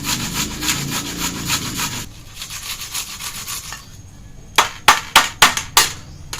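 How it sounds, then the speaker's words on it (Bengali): An onion rasps back and forth across a hand grater, first in a quick run of scraping strokes, then after a quiet pause in several sharper, distinct scrapes close by. "পেঁয়াজটা এটার সাহায্যে ঘষে নিব।"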